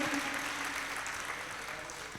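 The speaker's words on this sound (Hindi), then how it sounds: "तो आप इनके लिए भी एक बार जोरदार तालियां बनाएं," An audience at a Jain religious sermon applauds. The clapping is soft, steady and diffuse, like a distant wash of many hands, and carries on evenly without any voices.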